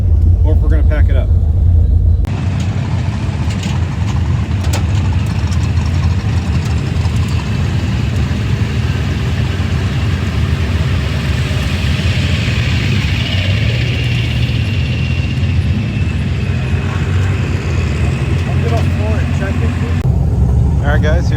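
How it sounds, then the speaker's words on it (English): Race cars idle in the staging lanes at a drag strip during Sick Week, a steady low engine rumble that goes on for about twenty seconds and sits close and loud, with crowd noise mixed in. "here's some of the last cars in the lanes."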